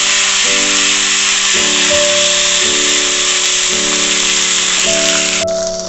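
Ginger paste, with a pinch of salt, sizzles loudly and steadily in hot oil while cooking a filling for cucumber kachori, a close continuous frying hiss with a faint tonal hum underneath.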